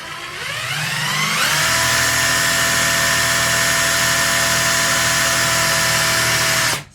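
A budget impact driver under $50 spins up at no load, a steady high electric motor whine with a rising pitch at start that holds constant for several seconds, then cuts off.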